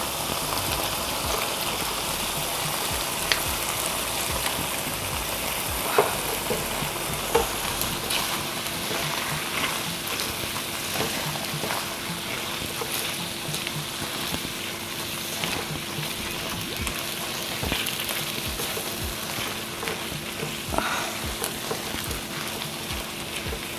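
Mixed vegetables stir-frying in a pan for a chicken vegetable stir fry, a continuous dense crackling sizzle like rain with scattered louder pops and scrapes, close and steady, no talking.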